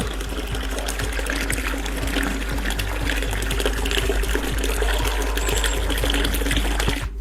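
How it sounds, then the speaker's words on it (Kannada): Dirty wash water drains out of a washing machine through a pipe, a continuous close, loud gushing trickle over a low steady hum. "ಈ ಒಂದು ಪೈಪ್ ಮೂಲಕ ನೀವು ನೀರನ್ನು ಹೊರಗಡೆ ಬಿಡ್ಬೋದು"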